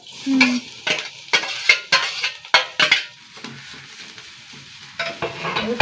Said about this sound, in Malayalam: എണ്ണ ചൂടായി തേങ്ങ കൊടുക്കട്ടെ കേട്ടോ